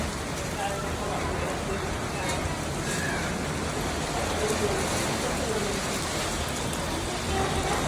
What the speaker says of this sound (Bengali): এত ঝড় বৃষ্টি আল্লাহর রহমতের বৃষ্টি হচ্ছে